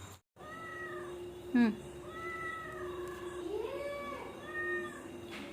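A cat following along on a walk gives several drawn-out meows, close and clear, some rising and falling, with one sharp louder cry in between, while a person speaks to it.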